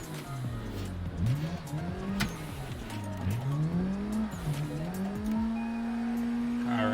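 Racing car engine in Assetto Corsa at Emerald Coast Dragway, revving up and down in repeated rising sweeps as the car slides and nearly spins out, with tyre squeal over steady engine drone, no talk.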